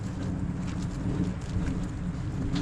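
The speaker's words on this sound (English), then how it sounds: "It's getting a little stormy out there." Stormy weather on Assateague Island with steady rain and a low rumbling wash beneath it, a continuous dense hiss at moderate level without speech.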